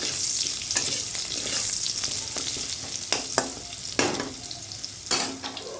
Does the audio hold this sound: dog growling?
no